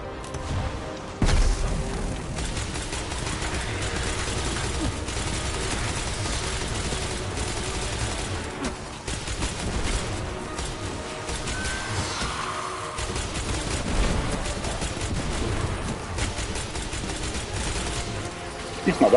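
Grenade blasts and rapid gunfire during a Destiny 2 warlock campaign battle, loud continuous bursts of shots and booms layered over game music and effects, with brief talk in places.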